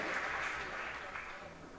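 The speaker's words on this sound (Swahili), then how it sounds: "Wapigiwa makofi." A church congregation applauds, a dense wash of clapping that starts strong and gradually thins, moderately distant and with no voices standing out.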